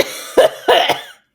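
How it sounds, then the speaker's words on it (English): Coughing straight into a microphone, three harsh close bursts within about a second, loud and dry with a short pause between the first and second. "I just coughed into my mic."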